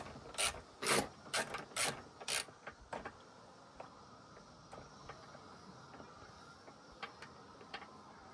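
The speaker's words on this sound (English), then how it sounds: "Loosen it off so I can lift the whole piece off with the bolts in." Ratchet wrench loosening the clutch cover bolts on a Yamaha WR125R: a burst of five loud, rapid clicking pulls up close at the start, then sparse faint ticks and clicks for the rest.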